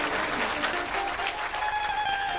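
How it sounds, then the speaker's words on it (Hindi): Audience applause at a Hindi motivational speech by a spiritual preacher, a steady dense patter of clapping filling the whole stretch at moderate level with some crowd noise underneath. "तालियां को ज़्यादा तो नहीं बजा दी हैं आपने?"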